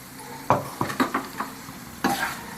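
Egg chukka being stirred in a hot pan after a sprinkle of pepper, giving a handful of close scraping strokes over a soft sizzle, with no one talking.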